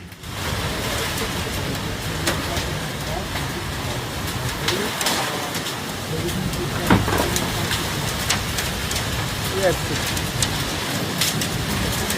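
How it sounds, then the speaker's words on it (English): Heavy rain pours steadily on surfaces during a violent storm in central Switzerland, a dense continuous hiss with scattered louder spatters and faint bird calls underneath. "Heavy rain, strong winds, and hail caused chaos."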